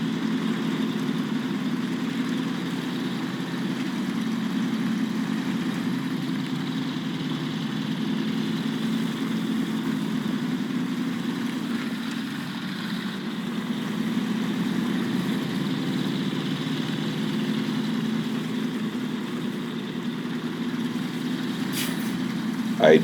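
A Fleet Star truck with an upgraded engine idles in SnowRunner, a steady, loud low rumble that holds evenly throughout with a faint hiss near the end and no talk.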